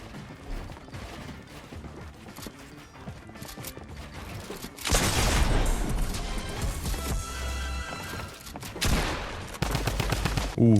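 Rapid gunfire from a Fortnite match, including a pump shotgun, bursts loud and close with a crashing, smashing edge over busy game sounds, growing denser in the second half.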